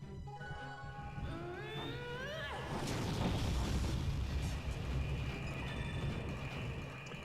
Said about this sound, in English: there's a lot of exploding chests in this world